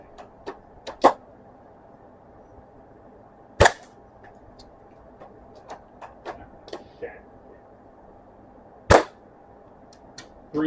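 An airsoft sniper rifle being test-fired through a chronograph, giving sharp, loud, isolated snaps spaced several seconds apart, with lighter clicks and handling taps between shots in a quiet room.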